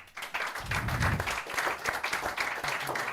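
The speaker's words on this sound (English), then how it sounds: "big round of applause for each one of you guys" An audience applauds at the Limitless 2023 event, a steady wash of dense clapping that holds for a few seconds at moderate loudness, with no voices standing out.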